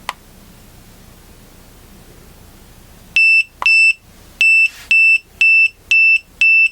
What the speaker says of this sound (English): you can press any button and stop that audible alarm